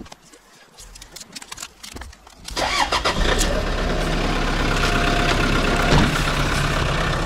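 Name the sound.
car engine starting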